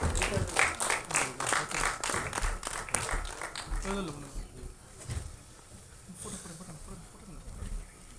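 An audience at an album song screening festival applauds a guest being called to the stage, a dense run of clapping in the first half that thins as a voice begins speaking over it.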